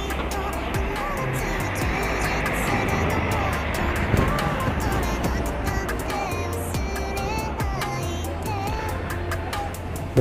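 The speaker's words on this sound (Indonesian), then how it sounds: "Prima Jasa tujuan Bandung Kaligres ya, baru tiba mau masuk di parkiran di belakang ya teman-teman." A Prima Jasa bus to Bandung on an RN 285 chassis rolls into Kalideres terminal toward the rear parking area, its engine rumbling steadily and close for about ten seconds under a voice and busy terminal noise.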